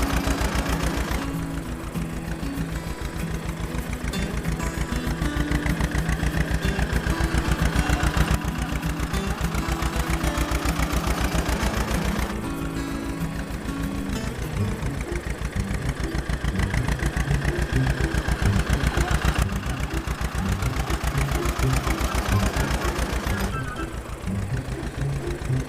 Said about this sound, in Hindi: उन मिनी ट्रैक्टरों पर सब मुकाबला करते हुए उस पहाड़ के ऊपर चलने लगे